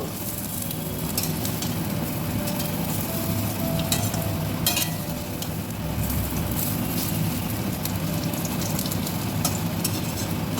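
Lentil fritters (dal bora) frying in oil after being turned over, giving a dense, constant crackling sizzle close by, with light stirring scrapes and no voices.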